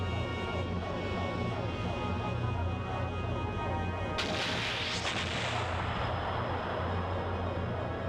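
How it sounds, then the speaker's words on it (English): Guns fire in the GameCube game Skies of Arcadia Legends, a dense, loud, sustained barrage of booming shots with a brighter burst midway. "What if I shot you with guns?"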